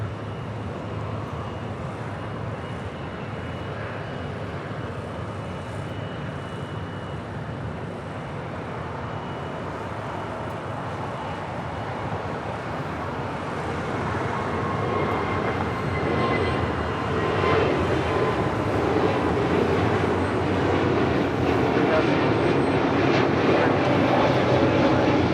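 An airliner rumbles at Los Angeles International Airport, a broad, steady engine roar that slowly swells louder over about 25 seconds, distant and continuous.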